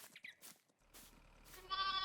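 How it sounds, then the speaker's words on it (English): A sheep in Farming Simulator 22 bleats softly, starting out faint and rising to a louder, steady bleat near the end over a low background hum. "And a regular sheep."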